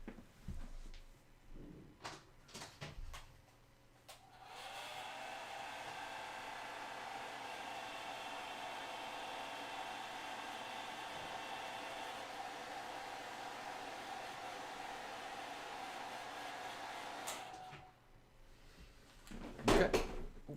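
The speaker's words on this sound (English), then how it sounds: "I do have a hairdryer nearby." A hair dryer blows on freshly painted Space Marine miniatures, a steady whooshing drone with a faint whine running for about thirteen seconds after a click on, with a few knocks and handling noises before and after it.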